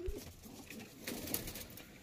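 Malbahi pigeons in a loft give soft, low cooing across two seconds, faint and steady against a quiet room background.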